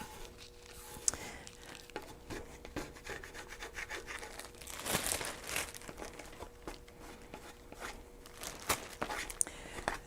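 Dried adhesive build-up being scrubbed off a palette, a steady close rubbing and scraping with short crinkly bursts, denser in the middle, heard alone without talk.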